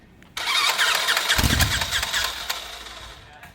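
A rebuilt Cessna 120 aircraft engine cranks and catches, with a sudden loud start followed by a rough, sputtering run that fades back over about three seconds.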